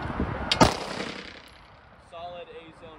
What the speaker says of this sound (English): we're gonna go ahead and see what our draw to first shot times look like